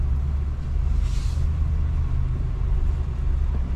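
RAM 2500 Power Wagon pickup crawling off-road in four-wheel drive, a steady close low engine rumble with a brief hissing burst partway through.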